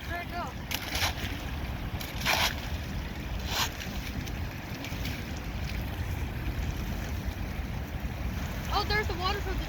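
Runoff water from a tennis court streams in with a steady, soft rushing wash, broken by a few louder gusty bursts, and a voice briefly near the end.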